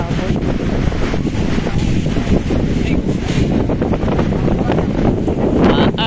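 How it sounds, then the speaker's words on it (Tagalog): Strong gusting wind buffets the microphone with a loud, continuous low rumble at Tatlong Krus in Paete, Laguna, drowning most other sound, with a faint voice now and then underneath. "Ang hangin dito."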